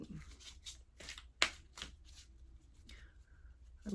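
Tarot cards are shuffled and handled close up, with soft riffles, quick slaps and one sharp snap as a card is drawn, and faint speech in the background.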